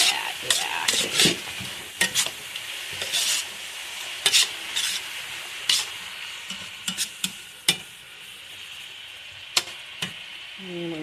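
Food stir-fries in a hot pan as soy sauce goes in to deglaze. A steady sizzle runs throughout under repeated sharp scrapes and clacks of a utensil against the pan.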